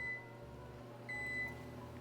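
Convection oven timer being set to 20 minutes while baking sourdough bread, two short quiet electronic tones against a low steady hum.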